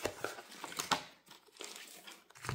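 Foil wrappers of Pokémon booster packs crinkle and tear as they are opened by hand, with faint, irregular crumpling rustles close by in a quiet room.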